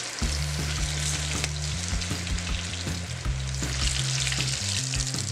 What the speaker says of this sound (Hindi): इस तरह से हमने उठाना है पनीर के पकौड़े और अलग अलग इस तरह से डाल देंगे।